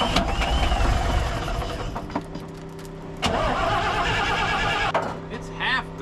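Old cabover truck diesel engine running rough with two injectors not firing, turning over and catching unevenly, loud and close with a clunk partway, voices talking over it.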